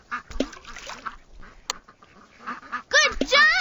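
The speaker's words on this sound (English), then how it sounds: "Those baby ducks are blocking the road." Cartoon baby ducks quack repeatedly in a Dora the Explorer video game, with brief bursts early on and then louder, clear quacks near the end, alongside a bit of speech.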